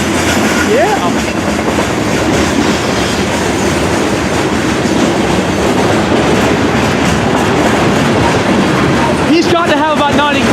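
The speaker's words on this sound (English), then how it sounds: "we'll watch this CSA straight train with ES44 AH722 and 322, the AC4400" A long freight train pulled by ES44 and AC4400 diesel locomotives rolls past close by, loud and steady, with wheels clattering and a brief squeal near the end.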